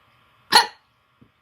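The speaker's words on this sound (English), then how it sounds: "I have such a variety of hiccups." A single loud, abrupt hiccup bursts out close by, followed by brief faint breathy sounds in an otherwise quiet space.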